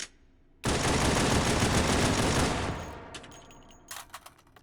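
A dense burst of rapid automatic gunfire from low-poly guns in the VR game H3VR: Take & Hold, loud and continuous for about two seconds, then fading into echoes and scattered clicks.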